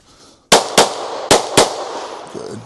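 A Glock 34 pistol fires four loud, close shots at targets on a range in two quick pairs, each crack sharp and followed by a brief ringing decay.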